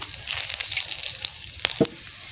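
Whole cumin seeds and bay leaves sizzle in hot oil for a Kadaknath chicken curry, a steady close crackling hiss with a few sharper pops and stirring clinks near the end.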